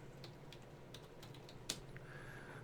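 A handful of faint, scattered keystrokes on a computer keyboard while a website is being built, light taps spread over a few seconds with one slightly sharper click, against a quiet room hiss.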